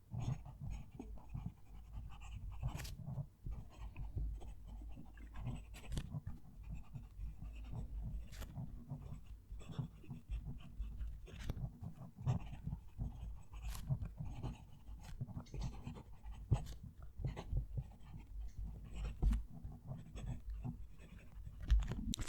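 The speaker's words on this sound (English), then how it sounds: "Going to move the mic down to the page and write a sentence." A fountain pen nib, a fairly stiff one, scratches across paper while writing a sentence, with faint irregular strokes and small taps close to the page, quiet and uneven throughout with no talking.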